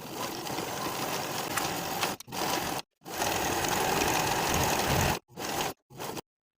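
A sewing machine stitches a sweatshirt seam in several bursts, whirring steadily with short pauses between runs and a final brief spurt before it stops.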